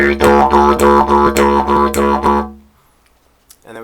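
A didgeridoo plays a steady droning rhythm with a doubled pulse on every beat, loud and close, about nine even accents before stopping into near silence, then a brief voice.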